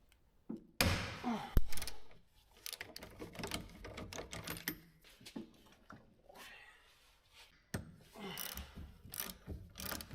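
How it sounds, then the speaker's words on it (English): Brake caliper compressor tool working on a Mercedes Sprinter 4x4 caliper, giving close ratcheting clicks, metallic clunks and scraping in uneven bursts, with no talking. "I very often use this tool to compress the brake caliper"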